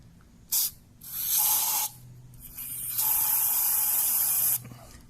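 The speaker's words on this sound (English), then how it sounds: "Now let's spray some brake cleaner in there." Brake cleaner hisses out of an aerosol can into the engine of a Ford Ranger with a 2.3L engine that is running rough, in several sharp bursts, including one short burst and two long sustained sprays, close and fairly loud.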